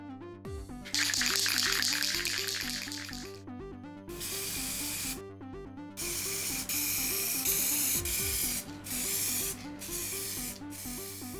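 An aerosol can hisses in several long bursts while applying a second coat of paint to a motorcycle part, with short pauses between sprays over steady background music.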